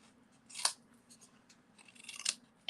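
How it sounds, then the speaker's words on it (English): Snips cut along the score lines of a paper birdhouse treat box, giving two short crisp snipping bursts close by in a quiet room. "So follow your score lines up with your snips. And we'll angle cut."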